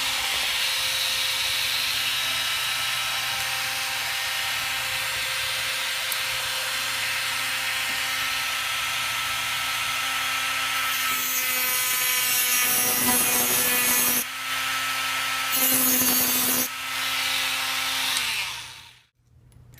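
A Dremel rotary tool cuts a Tamiya Mini 4WD chassis part with a loud, high, steady whine close by, rasping harder through the plastic in bursts toward the end before cutting off abruptly.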